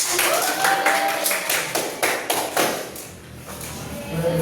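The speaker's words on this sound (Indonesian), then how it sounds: "Boleh tepuk tangan untuk" A fourth-grade class claps during a microteaching lesson on rights and duties, with uneven clusters of hand claps rising and dipping in the room, some children's voices mixed in.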